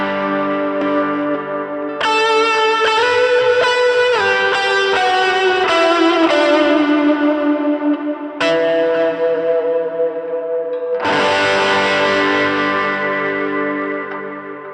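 Electric guitar through an HX Stomp pedalboard set up very wet, with heavy effects, chorus and long echo tails. Sustained chords ring out and decay, then are re-struck twice, loud and continuous with no talking.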